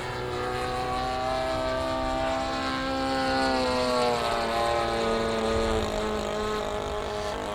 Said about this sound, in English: This is about half throttle. You can hear it kind of burbling a little bit.